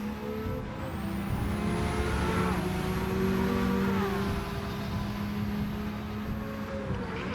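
A Nissan Skyline GT-R R32 in the racing video game Gran Turismo 7 drives with a steady, droning engine note that rises and falls slightly, heard alone and fairly loud throughout.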